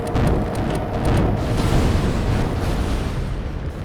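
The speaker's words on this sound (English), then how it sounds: "now one of them has exploded in the crate" A missile exploding inside a crate in the game Stormworks, a loud, sustained rumbling blast with a deep roaring body that holds steady for a few seconds without voices.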